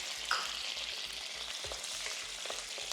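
Curry leaves and dried red chillies sizzle steadily in hot oil for garlic kuzhambu, a continuous crackling hiss with soft spatters and a faint rhythmic low thumping beneath, no talking.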